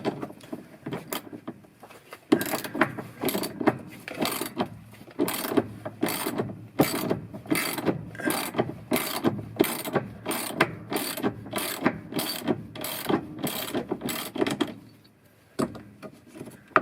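A 3/8 socket ratchet clicks in rapid, steady bursts of strokes while working on a GE GTW465ASN1WW top-load washer that will not spin, the ratcheting loud and close, with a brief pause near the end.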